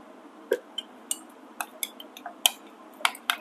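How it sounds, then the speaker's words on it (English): A spoon clinking against a bowl while liquid is stirred into chocolate chia pudding, producing a series of light, irregular taps and scrapes, close and fairly quiet. "So I'll keep stirring some in, little at a time."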